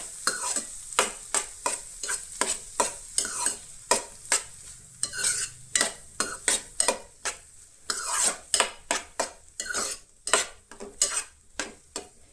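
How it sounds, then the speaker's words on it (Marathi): Masala pav filling with capsicum is stir-fried in a pan, a spatula scraping in quick repeated strokes over a steady close sizzle, with no voices. "तेच्या मागीर शिमला मिर्च, हे बरें सगळें आतां मिक्स करून घेयात"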